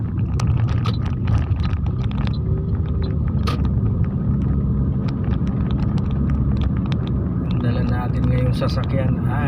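Interior drone of a 2024 Toyota Alphard V6 driving at night, a steady low engine and road rumble throughout with scattered clicks and faint voices talking in the cabin.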